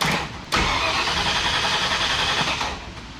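A car engine cranks over after its solenoid is wired: a brief turnover, then a sudden catch into a rough, loud running rumble that settles and fades slightly near the end.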